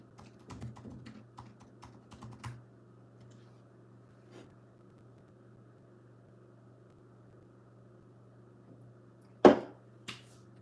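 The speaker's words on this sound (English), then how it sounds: "Let me type it." Keys clatter on a computer keyboard in a short burst of quick, close typing, then faint isolated taps over a low steady hum, with one sharp louder knock near the end.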